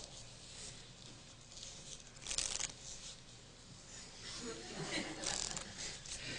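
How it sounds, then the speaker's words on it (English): A deck of playing cards is shuffled by a magician, faint soft riffling and patter in a few bursts, quiet and close under low room noise. "I'm going to ask you to watch me narrowly as I shuffle the cards."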